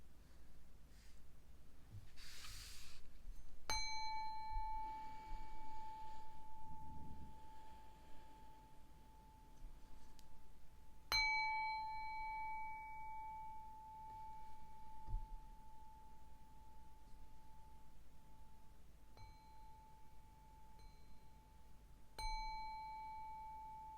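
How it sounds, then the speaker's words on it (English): A small bell struck a few separate times, each ring sharp and clear with a long sustained tone decaying slowly, spaced several seconds apart in an otherwise quiet room. "Gonna ring the bell a couple times."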